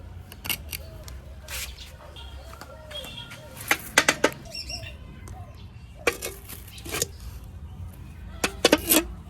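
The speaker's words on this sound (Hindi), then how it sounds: "अलग तरह की चिड़िया आई है, अभी उसकी आवाज सुनाई दी" A bird calls in a run of short, repeated chirps, mixed with scattered sharp clicks and rustling handling noises nearby, during transplanting of Kinnow mandarin saplings.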